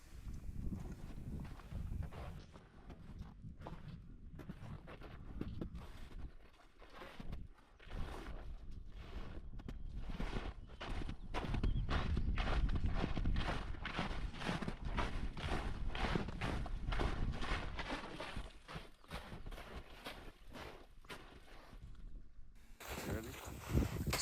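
A hiker half gallops, half skis down a slick mountain trail at Glacier National Park, footfalls landing in a fast, regular, hoof-like rhythm of crunching steps, loud and close, sustained for most of the stretch with a brief pause before.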